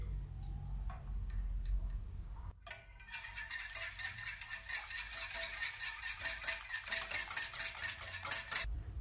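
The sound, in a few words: mixing salt, egg and egg white in a bowl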